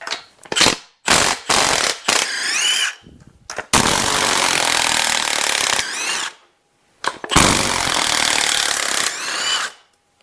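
An impact wrench removes bolts from a 5.3L LT (L84) V8 engine during a teardown, firing several close, loud bursts: short rattling hits first, then two longer sustained hammering runs with rising motor whine, separated by brief pauses.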